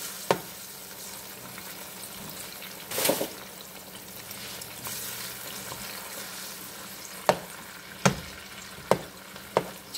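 Butter sizzles and sautés in a pan for chicken alfredo, a soft, steady frying hiss close by, broken by several sharp clinks and scrapes of stirring.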